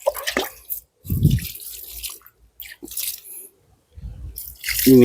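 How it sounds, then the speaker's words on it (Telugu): Water is poured from a container onto the soil around a newly planted drumstick tree sapling, in short splashing bursts separated by quiet pauses, close by. "కొంచెం నీళ్ళు వేద్దాం"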